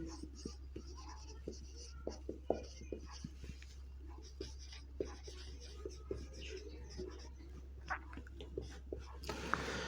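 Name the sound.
writing during a chemistry lesson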